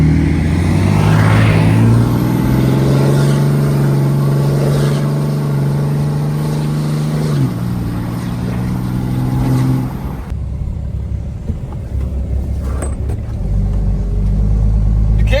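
A 4th gen Cummins diesel truck engine revving hard for a burnout, a loud close droning roar that holds steady, dips and rises again, then cuts to a lower rumble near the end.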